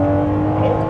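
A Ferrari 599 GTB V12 with its F1 paddle-shift transmission revs loud and close, a steady dense engine drone with strong low harmonics held for under a second.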